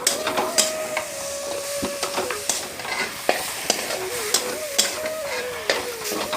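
A filling of potato, ridge gourd and lentils fries in a pan with steady sizzling, broken by repeated sharp scrapes and clicks as it is stirred.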